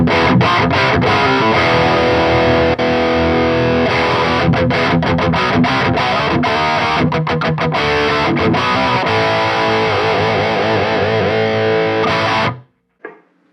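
Electric guitar played through a Mesa Boogie Badlander amp on channel 1 in crunch mode, controls at noon, a loud continuous distorted riff with chugging rhythmic chords and short stabs, cutting off abruptly near the end.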